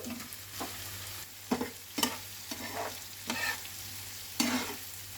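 Prawns fry in a pan with onion, ginger and garlic, giving a soft steady sizzle broken by regular spatula scrapes and stirs at close range.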